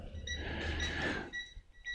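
A multimeter's non-contact voltage detector sounds a few short high-pitched electronic beeps, the first ones over a broad rushing noise and the last ones clear and alone.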